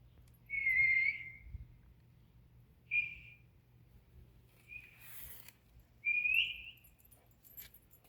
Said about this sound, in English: Where's this whistle coming from?